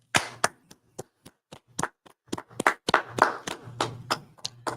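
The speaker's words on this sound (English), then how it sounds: "Let's clap it up." Sparse, uneven hand claps, a handful of sharp separate smacks that thicken into a brief ragged burst of clapping from a small group, fairly close.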